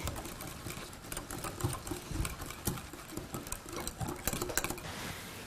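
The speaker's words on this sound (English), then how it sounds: "Just whisk it until the yogurt has no lumps." Whisk beating thick Greek-style yogurt in a bowl until smooth, a steady close rapid patter of clicking strokes throughout, alone with no talk.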